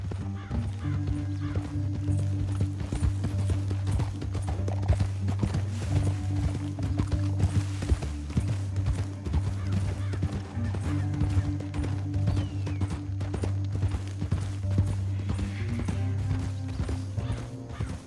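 Steady clip-clop of galloping horse hooves in Red Dead Redemption 2, loud and continuous, with a rhythmic pounding over a low rumbling backdrop and occasional whinnies.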